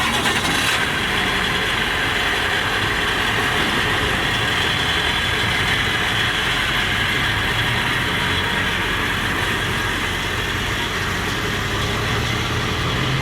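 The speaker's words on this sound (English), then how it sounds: "All right, we'll give a cold start for you guys." A used pickup truck engine, bought at a salvage auction, starting warm and then idling steadily, a continuous loud rumble close by with a broad hiss.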